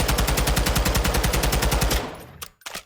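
Taq-56 rifle firing on full auto in the video game MW2, a loud rapid burst of evenly spaced shots for about two seconds, then a sharp stop followed by a couple of brief mechanical clicks.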